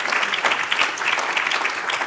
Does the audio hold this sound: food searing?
no